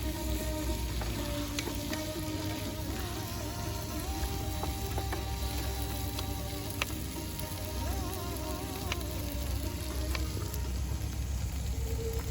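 Vegetables fry with rasam powder in a pan at a forest campsite, a continuous close sizzle with faint bird calls and outdoor ambience behind it.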